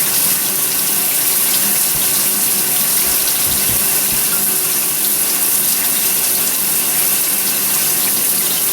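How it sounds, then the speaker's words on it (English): Tap water runs steadily from a faucet over an aromatherapy shower steamer in a sink, a loud, continuous splashing rush lasting throughout with no talking. "Let's run some water on it."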